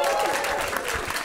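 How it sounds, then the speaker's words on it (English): Live comedy podcast audience gives a brief burst of applause, a dense wash of clapping with some voices mixed in. "Give me a round of applause if you have heard the podcast before"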